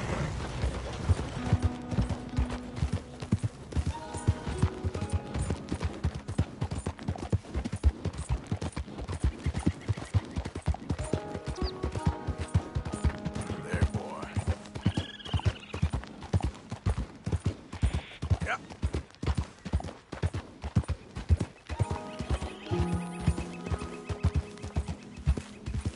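Horse hooves clip-clop steadily at a gallop in a PS4 video game, with rhythmic hoofbeats, creaking tack and mechanical clatter throughout, and an occasional whinny.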